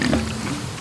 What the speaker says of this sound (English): Iberico pigs. Dozens of them.